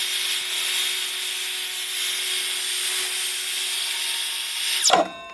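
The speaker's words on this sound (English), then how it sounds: "get your saw set up, get ready to plunge" A plunge saw cuts through wood with a steady, high motor whine and continuous rasping noise, then winds down and stops abruptly near the end.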